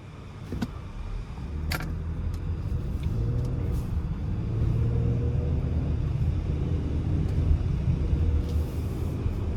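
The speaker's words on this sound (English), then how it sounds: "let's go ahead and take this 2025 Lincoln Aviator Reserve 2 out on the road for a test drive" A 2025 Lincoln Aviator Reserve II SUV on the road, heard from inside the cabin as a steady low engine and road rumble with tyre noise, plus a few brief clicks and rattles early on and no talking.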